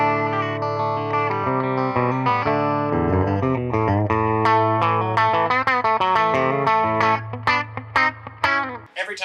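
Clean electric guitar, a Cabronita played with no phaser or drive, picking a melodic line of single notes over a held low note, then faster plucked phrases with crisp attacks, close and steady, no voices.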